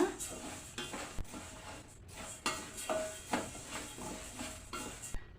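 A spatula scrapes and clinks in a pan as moong dal fries on a low flame for murukulu, with a faint sizzle under repeated, soft stirring strokes and no talking.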